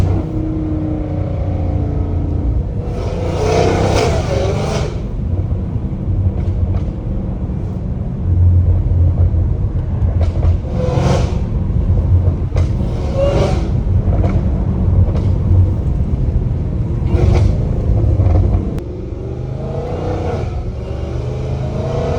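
A Dodge Hellcat Redeye with a titanium valved catless exhaust revs repeatedly. A deep, steady rumble is punctuated by several loud, crisp rev bursts, then eases off near the end, with the car close by and no talking.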